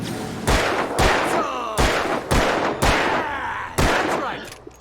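Gunfire in the video game Alan Wake: six loud, heavy shots spaced roughly half a second to a second apart, each a sharp crack with a ringing tail.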